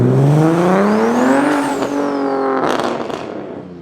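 A Mitsubishi Evo with aftermarket cams and a leaking oil engine revs hard close by. The loud engine note climbs sharply, peaks, then drops away with a rough, choppy edge as it settles.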